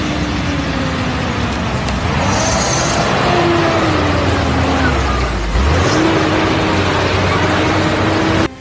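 A heavy Peterbilt logging truck drives and accelerates, its diesel engine droning loud and close with a steady low rumble that climbs in pitch, continuous throughout with no one talking.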